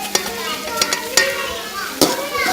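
Onions frying in a pan with red chilli, turmeric, salt and cumin, stirred with several sharp spatula scrapes and knocks over a continuous close sizzle.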